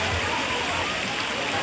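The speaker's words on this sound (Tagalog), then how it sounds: "Nandito na kami sa ulan!" Dense, steady hiss of rain pouring down, broadband and constant throughout, with faint voices mixed into the wash.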